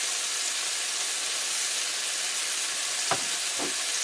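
Meat patties sizzling in a hot skillet turned up high, a steady broad hiss of frying throughout with a couple of faint brief clicks near the end.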